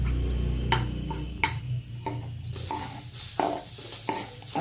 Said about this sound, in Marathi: आता आपण कांदा टाकणार आहे भाजायला कांदा